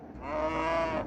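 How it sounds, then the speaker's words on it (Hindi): A cow gives a single low, drawn-out moo that swells and fades over about a second, fairly soft and alone. "गाय की बोली है"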